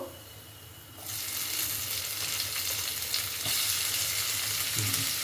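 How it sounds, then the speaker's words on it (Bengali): Onion goes into a pan of frying garlic paste, and the quiet sizzle suddenly bursts into a loud, hissing crackle that swells again midway, with light stirring scrapes. "রসুন বাটাটা ভাজা হয়ে গেছে এবার পেঁয়াজটা দিয়ে দেবো"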